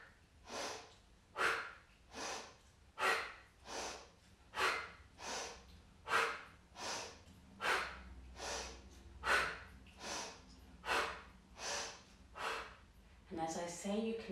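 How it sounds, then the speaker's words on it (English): A person doing a breathing exercise takes slow, deliberate breaths in and out, about a dozen evenly spaced airy cycles, close and clear, with a brief voice near the end. "we're going to breathe in and breathing out to the right."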